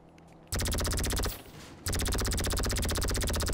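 Rapid automatic gunfire from a powerful weapon in a shooter video game, loud sustained bursts with a brief dip before firing resumes.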